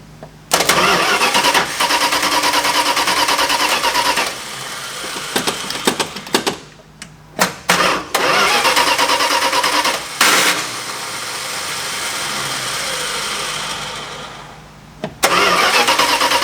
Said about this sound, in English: Give it a couple of pumps, and we'll crank it from right here.